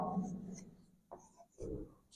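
Short scratchy strokes sound as examples are written on a board during a grammar class, a few brief marks close by with a voice speaking around them.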